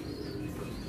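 Young racing pigeons cooing in a loft, soft low murmuring coos close by with a few light chirps over a quiet background.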